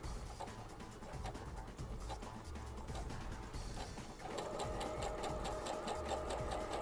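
A sewing machine fitted with a pintuck foot stitches corded pintucks in a steady, rapid rhythmic whir, close and alone, quickening slightly toward the end.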